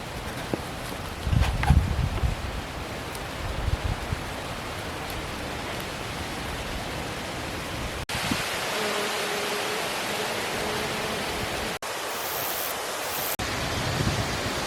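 Strong wind roars steadily through trees, a broad rushing noise with gusty swells and rustling, continuing for the whole stretch without any voices.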